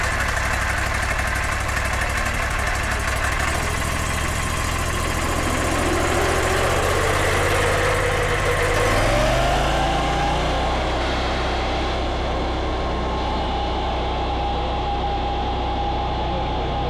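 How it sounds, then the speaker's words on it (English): A sawmill engine runs steadily while a double cut takes a thick plank, roughly 3 by 18 inches, from a log. The loud, close drone shifts and climbs in pitch partway through, with no speech. "He's going to set up and do a double cut so that we can get a nice thick roughly 3 inch by 18 inch plank out of this log here."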